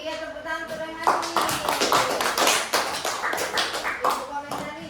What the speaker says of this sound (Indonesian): tepuk tangan untuk Rehani